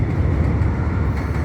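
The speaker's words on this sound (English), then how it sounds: "Oh, there's a train coming, and it's a bright line." A Brightline passenger train passes close by at a Fort Lauderdale riverwalk, giving a loud, continuous rumble and roar that holds steady with no voices.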